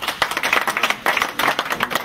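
Audience members at a Cojep congress in The Hague clap in two quick, fairly moderate bursts separated by a short gap.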